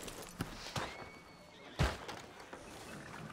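A horse whinnies in the Red Dead Redemption 2 video game, one rising neigh heard at moderate distance among soft thuds and hoof sounds in a quiet town setting.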